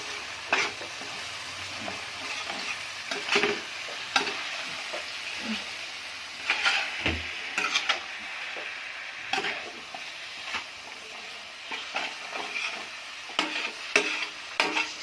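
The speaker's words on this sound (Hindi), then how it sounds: "और इसको हम कर लेंगे अच्छी तरह से मिक्स।" Spiced chicken stirred on a tawa, with continuous sizzling and frying hiss under repeated scraping and clacking strokes of a spatula on the iron surface, close and steady, with no talking.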